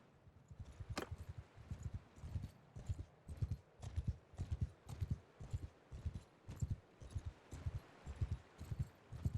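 A ridden horse's hooves clip-clop at a steady walking rhythm in Mount & Blade 2, soft and evenly paced throughout with a faint background hiss and no other sound.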